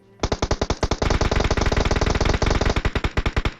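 Automatic gunfire from the video game PUBG Mobile: a loud, rapid string of shots in even bursts, close and continuous for several seconds with no talk.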